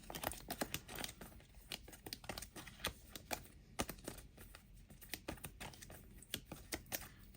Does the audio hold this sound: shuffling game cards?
yes